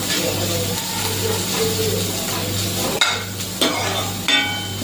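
Chopped onion and peanuts frying in a pan, giving a steady loud sizzle throughout, with three sharp clinks of a utensil against the pan near the end.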